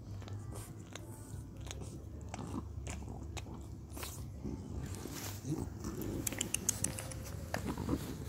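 A pet dog bites and chews a tangerine, giving repeated wet crunching and smacking bites up close, with a few sharper clicks toward the end and no talking.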